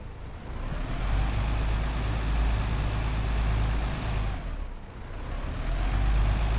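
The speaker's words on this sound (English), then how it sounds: "Engine sounds all right. Got a nice grumble to that." A diesel bus engine in the OMSI 2 bus simulator rumbles at a steady idle, a loud continuous low grumble that briefly dips before resuming.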